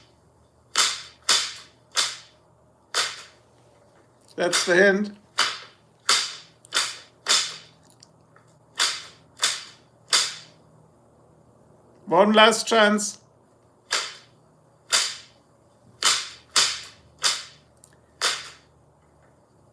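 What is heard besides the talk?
whip cracking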